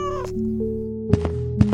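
A cat meows: one drawn-out meow, then two short sharp calls close to the listener, with a soft sustained tonal background underneath.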